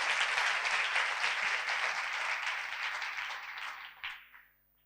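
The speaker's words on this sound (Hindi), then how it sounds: "तालियों के साथ कलाम को वेलकम करें।" Audience at a Christmas sermon in a church hall claps in warm, dense applause that holds steady, then thins and fades out after about four seconds.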